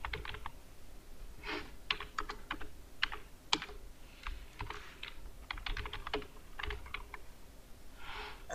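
Steady typing on a computer keyboard while filling in a form in Adobe Acrobat, with rapid bursts of key clicks separated by short pauses, close and fairly quiet, with no talking.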